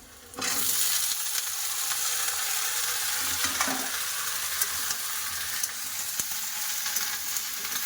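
Chopped mixed vegetables drop into a pan of well-fried onions for a mixed vegetable curry and burst into a loud, sustained sizzle, with light scraping of a spatula now and then.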